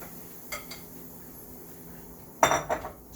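Okra dropped into a stew pot of seafood stew, making a couple of clear clattering knocks against the pot near the end, with a softer clink earlier and quiet room tone between.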